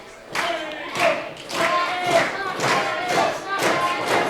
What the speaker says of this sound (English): Crowd getting him fired up.